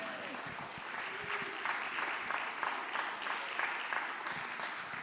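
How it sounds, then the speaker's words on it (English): Applause from a seated audience for the panelists at a community Canada Reads book debate event in Lennoxville, steady dense clapping filling the room throughout, with a few louder rises. "we should give them yet another round of applause"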